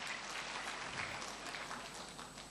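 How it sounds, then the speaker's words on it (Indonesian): Church congregation applauding at a sermon, a steady wash of clapping from many hands heard at some distance, fairly faint and continuous without speech. "yang setuju berikan tepuk tangan"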